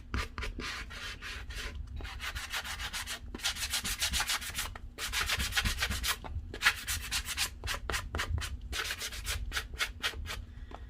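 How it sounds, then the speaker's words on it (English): A sanding block lightly sands over a painted stencil on a wooden stool, close, in quick bursts of back-and-forth rubbing strokes separated by short pauses. "I'm just gonna lightly sand over this stencil, just so that it just distresses a little bit"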